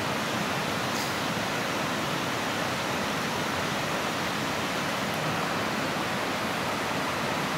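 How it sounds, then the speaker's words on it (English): Mountain waterfalls cascading down rocky slopes, a dense, steady roaring rush of water that fills the whole stretch without a break, with no voices. "Beautiful waterfalls cascading down these mountains"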